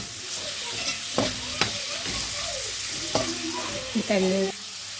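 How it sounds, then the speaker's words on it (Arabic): Meat stirred and sautéed with golden onions in a pot, with scraping stirs and a steady close sizzle running throughout. "شوحيها كده مع البصله، عشان كده قلت لك خلي البصله لونها ذهبي عشان ما تتحرقش"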